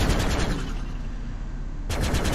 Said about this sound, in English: I like the rapid firing cannons already.